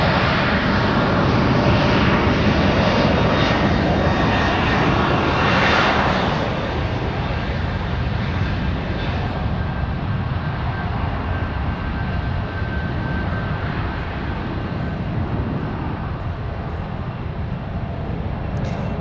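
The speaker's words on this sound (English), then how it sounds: "A321 taking off on 1 right" A United Airlines Airbus A321 jet takes off from runway 1 right at San Francisco. A loud, continuous engine roar fills the whole span and eases off only slightly toward the end, with no talking.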